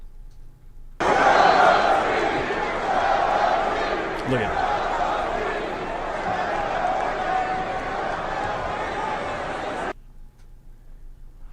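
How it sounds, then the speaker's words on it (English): An arena crowd at LCA chants in unison. The massed voices are loud and sustained for about nine seconds, then cut off abruptly. Someone speaks briefly over it. "Chanting, sell the team."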